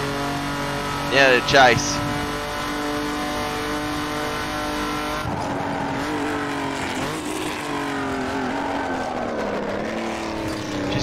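Racing car engine in a Bathurst racing video game, a steady loud drone of revs rising and falling through the gears, with someone talking over it throughout.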